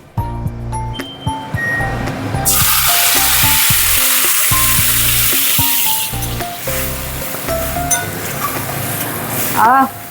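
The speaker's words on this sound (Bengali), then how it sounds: "ফোড়নটায় চিরবির চিরবির শব্দ হলে এই যে ফোড়নটা ভাজা হয়ে গেছে।" Fenugreek tempering crackles in hot oil, then a beaten egg mixture is poured in, setting off a sudden loud, sustained sizzle with stirring clatter while a person talks over it.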